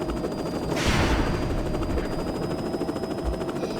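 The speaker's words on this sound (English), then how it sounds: "The helicopter almost got out of control right there, but I regained control" Helicopter flying in the Battlefield Yugoslavia video game, a loud steady rotor and engine drone with a brief burst of gunfire-like noise near the start, continuous and close.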